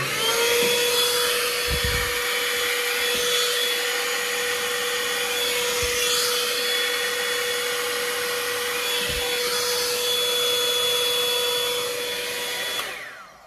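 Philips 5000 air styler running continuously, a steady close whine of blowing air with a high tonal hum, a few faint clicks or bumps along the way, then switched off at the end.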